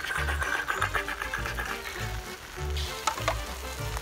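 Steady crackling sizzle of rice frying in a hot pan for chicken paella, continuous and close, with soft scraping stirs and a few sharper pops near the end.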